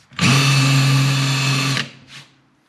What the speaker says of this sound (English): Drill those countersinks.